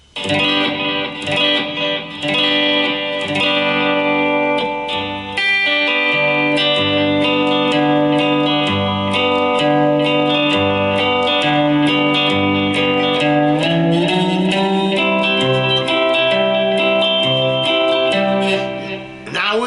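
Twangy lap steel guitar notes slide between pitches under a steel bar, with sustained chords and gliding bends played steadily for a long stretch, clear and close.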